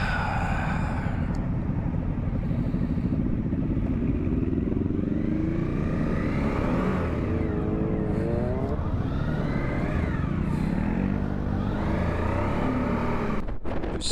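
Motorcycles riding together on an East Midlands country road, a continuous loud engine drone with rising and falling revs as bikes pass nearby, steady wind rush throughout.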